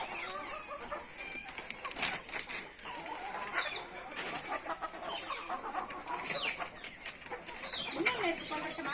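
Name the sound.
birds at a farm sanctuary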